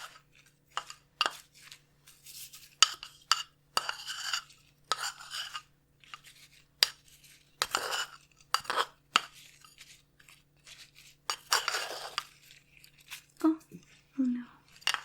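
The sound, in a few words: stirring a potion mixture in glassware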